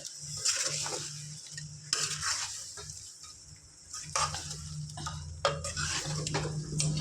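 Chicken pieces are being stirred with chili powder in a pan, producing repeated scraping and stirring strokes over a low sizzle. The sound is fairly quiet, with a steady hum underneath.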